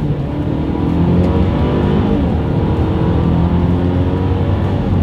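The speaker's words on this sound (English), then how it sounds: "let's see how quickly we can get this one here up to speed" A 2022 Mercedes-Benz GLC 300 SUV accelerates hard from first gear in manual shift mode, its engine giving a loud, steady, rising roar close by for the whole stretch, with no talking.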